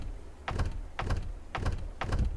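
Four evenly spaced heavy thunks as a video-game door is pried and forced with a crowbar, each impact sharp then fading, fairly quiet and alone.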